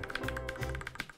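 Rapid typing on a hot-swappable mechanical gaming keyboard fitted with yellow switches, a quick close run of crisp key clacks in an uneven rhythm with no talk.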